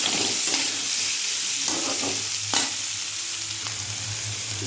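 Sliced kohlrabi sizzles steadily in hot oil with cumin in a home kitchen pan, with occasional clinks and scrapes from a spatula stirring, close and continuous.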